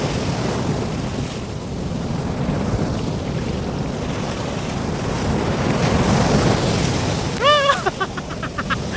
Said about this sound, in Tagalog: tunog ng tubig sa dagat.